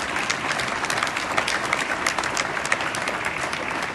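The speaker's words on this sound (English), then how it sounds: "Please give them a round of applause and thank them as well." A crowd claps steadily at a milestone celebration in Salt Lake City, dense and even throughout with no pauses.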